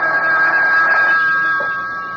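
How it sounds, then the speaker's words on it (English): A telephone rings as a radio drama sound effect, its bright electronic trill steady and close for about a second before it fades off, with no voices over it. "A couple of hours later, the phone rang."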